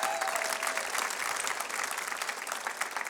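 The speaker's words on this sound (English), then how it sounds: "Give him a nice round of applause back there" Comedy club audience applauding a drummer, with dense continuous clapping from a crowd, fairly loud and steady throughout.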